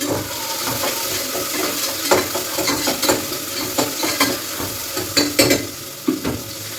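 Crushed ginger and garlic fry in a pan with a loud, close crackling sizzle, punctuated by repeated scraping strokes of a spoon stirring at an uneven rhythm.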